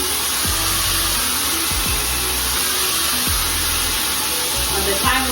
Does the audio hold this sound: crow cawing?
no